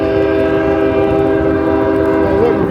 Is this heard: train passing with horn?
yes